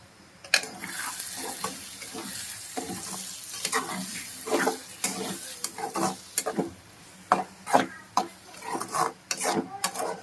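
Tomato egg curry seasoned with chili powder and salt is stirred in a pan, a spoon scraping and clacking in irregular bursts over a steady low sizzle, close and fairly loud, with no talking.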